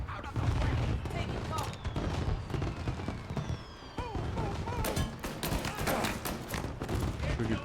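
A sustained exchange of gunfire in the video game Mafia 1 during a raid on a birthday party, with overlapping shots and bursts rattling loudly for several seconds.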